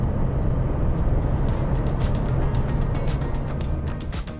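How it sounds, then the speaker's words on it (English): Steady, loud road and wind roar fills the cabin of a Chery Omoda 5 SUV cruising above 100 km/h, a continuous broadband drone with no talk over it. "Above 100 km/h, it gets so loud inside that you really have to turn up the volume of the audio"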